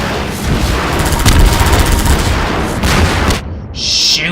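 Rapid bursts of gunfire aimed at a helicopter in Half-Life 2, loud and dense with booming impacts, ending abruptly before a brief high-pitched tone.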